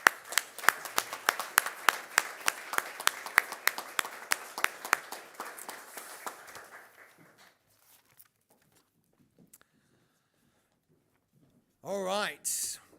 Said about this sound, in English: let's have a big round of applause for this first group of high-achieving young